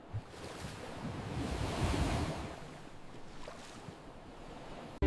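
Stormy sea waves surge and wash in a continuous roar, rising to a fuller crash midway before easing back, with wind blowing over the water.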